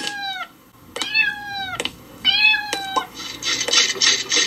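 A cat meows repeatedly in a read-along children's book, three clear drawn-out meows spaced across a few seconds, close and loud, followed by a burst of brighter noise at the end.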